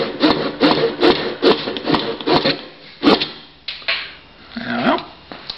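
A Silky folding saw cuts through hard wood with steady back-and-forth strokes, close and loud, each stroke a rasping burst; the rhythm slows and stutters near the end.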